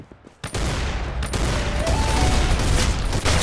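Loud, close gunfire in an Arsenal shooter game, with a burst of rapid shots cracking almost continuously after an opening blast, dense and harsh with no pauses.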